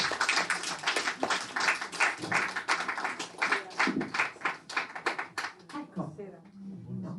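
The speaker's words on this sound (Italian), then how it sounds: "Applauso di incoraggiamento." An audience at a poetry show gives encouraging applause, a run of irregular close claps and taps that thins out toward the end, with talking over it.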